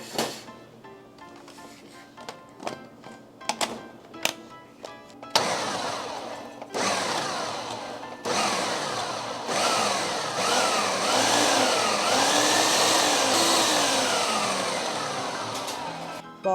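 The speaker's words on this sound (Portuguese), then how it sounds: "E agora vai ligar o processador de pouquinho em pouquinho, porque tem bastante manteiga aqui e farinha só" A food processor pulses butter and flour together for pie dough: a few quiet clicks and taps, then repeated loud, close motor bursts that grind and whir, each stopping briefly before the next.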